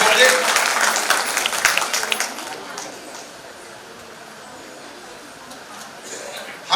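Audience applause welcoming guests at an award-distribution ceremony: steady clapping from a crowd that is loudest at the start and slowly thins out, with a spot of chatter in the hall.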